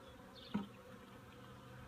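Honey bees buzz softly while a newly installed package colony is closed into its hive, a low steady hum with one brief closer pass of a single bee.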